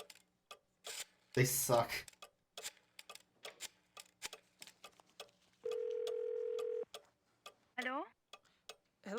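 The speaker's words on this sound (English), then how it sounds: "God, these old rotary phones" An old rotary phone in the Gabriel Knight game The Beast Within gives quick bursts of dial clicks, then a steady ringing tone and a short electronic chirp. A voice speaks briefly over it.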